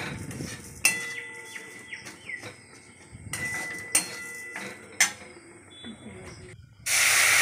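Milk poured into a hot pan of semolina for a mango rasmalai, hissing and steaming with scattered sharp clinks of utensils against the pan, ending in a sudden loud burst of hiss.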